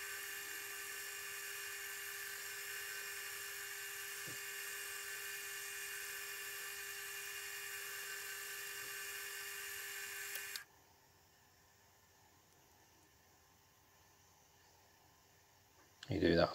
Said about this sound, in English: and then drill through every single one.